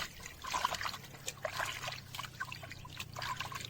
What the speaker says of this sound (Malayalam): അപ്പോൾ ചിക്കൻ നല്ലപോലെ ഒന്ന് കഴുകണം.